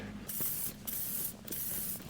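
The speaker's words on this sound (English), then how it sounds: "I think we're gonna get the spray paint out" Short hissing bursts of spray paint marking lines on a backyard golf green lawn, three or four close spurts separated by brief pauses, with no talking.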